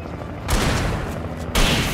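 Gunfire in the video game Alan Wake comes as two loud, dense bursts, one near the start and another late, with a broad noisy blast filling the short clip.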